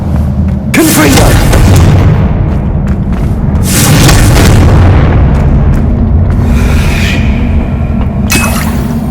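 Confringo spell blasts in a video game during a keeper trial: several loud, deep booming explosions with crackling bursts and rumbling tails, recurring every couple of seconds up close.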